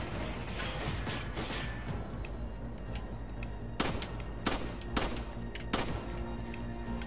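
Gunfire in the video game Resident Evil 5, several sharp shots spaced out over a constant dense layer of game background noise, with no talking over them.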